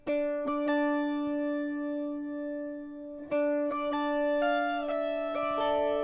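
A clean electric guitar, pitch-shifted up an octave with Waves SoundShifter, rings out in strummed chords and plucked notes that sustain and overlap, giving a bright, slightly artificial twelve-string-like shimmer with no other sounds.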